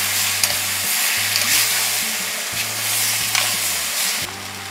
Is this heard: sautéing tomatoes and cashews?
yes